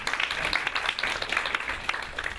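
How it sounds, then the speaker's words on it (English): A conference audience at a Wikimedia chapters session gives faint, distant applause, a soft continuous patter of many hands that lasts a couple of seconds. "Please give an applause to them because they arranged that."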